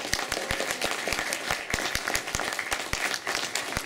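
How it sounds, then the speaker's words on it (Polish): An audience at a Warsaw integration event applauds a theatre group from a culture house, with a dense wash of clapping and distinct individual claps standing out throughout. "Prosimy o rzęsiste brawa dla tej grupy."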